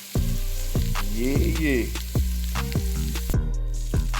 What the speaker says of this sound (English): slice them up, put them in your pot, get them to frying